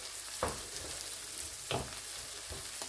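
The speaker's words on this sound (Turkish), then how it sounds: "Bunlar da bu şekilde kavruldu." Vegetables for menemen sautéing in a pan, a steady close sizzle broken by a few short stirring scrapes, with no talking.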